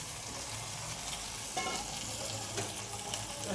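Rice and ingredients for khichuri sauté in hot oil for a Narayan puja offering, with a steady loud sizzle and an occasional stir or scrape close at hand.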